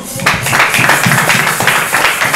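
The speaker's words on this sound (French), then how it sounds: "On applaudit." A short burst of clapping from a group of people, steady and moderately loud throughout.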